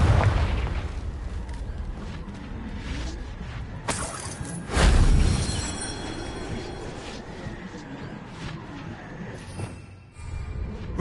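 Confringo fire spell explosions in Hogwarts Legacy on PS5, with a sharp blast and a booming burst of flame standing out against rumbling game ambience.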